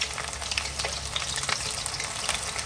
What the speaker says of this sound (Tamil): இல்ல கொஞ்சம் கொஞ்சமா தான் வறுக்கணும் சரிங்களா, இல்லைன்னா ஒட்டிக்கும் எல்லாமே